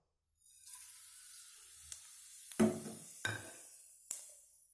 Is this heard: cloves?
yes